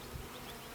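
Honey bees buzzing around an open hive being worked by a novice beekeeper, a faint steady drone close by with no voices.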